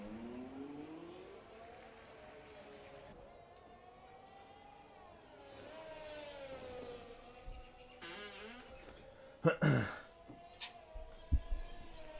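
Onboard engine of an Aston Martin race car lapping Abu Dhabi in a racing video game, a steady droning tone that rises and falls with the revs, ending in a few sharp louder bursts near the close.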